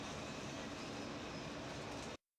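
An R160 subway car on a Brooklyn-bound M train rumbles steadily in a loud, dense roar that cuts off abruptly into silence, no voices.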